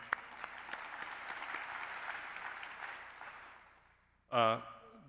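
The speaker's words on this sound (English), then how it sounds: "we can clap for him" Faculty and staff at a university convocation meeting clap for an absent professor, moderate steady applause that tapers off before a speaker's voice comes in at the end.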